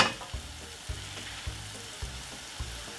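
Spinach fries in olive oil in a pan, a soft continuous sizzle with about five regular low thumps and scrapes of stirring, fairly quiet and close with no talking.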